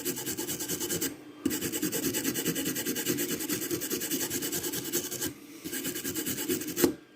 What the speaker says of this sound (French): Une brosse laiton, par exemple.